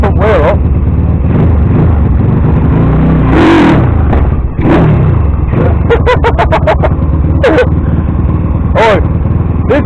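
A GSXR 50cc motorbike with a flat battery revs hard and rides off, its small engine whining up and down in loud repeated bursts close by, with voices talking over the engine at times.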